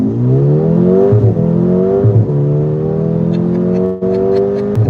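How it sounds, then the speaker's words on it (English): A Mercedes-AMG car accelerating hard in a drag race against a food delivery driver in Dubai, its engine note climbing steadily through two quick gear changes. The sound is loud, close and continuous, with no talking. "we're going to have a drag race with this food delivery driver that's behind us"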